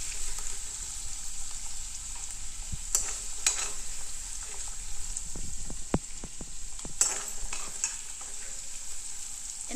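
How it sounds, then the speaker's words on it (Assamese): Mushrooms frying in oil in a pan, a steady close sizzle with scattered sharp pops and crackles, plus occasional clacks of stirring, and no voices. "মাছৰুমটো আগত অকণমান ভাজি লওঁ, অকণ ফ্ৰাই কৰি লওঁ"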